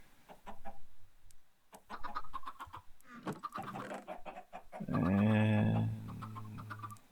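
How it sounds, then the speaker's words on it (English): Chickens in a survival video game cluck in short, scattered bursts, then a louder, fuller run of clucking swells near the end, close and clear. "we got 2 little chickens out of that."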